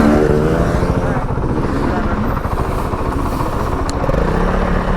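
Dual sport motorcycle engine droning steadily and loud while riding a quarry rally route, with rough low rumble and wind buffeting throughout, no clear pauses.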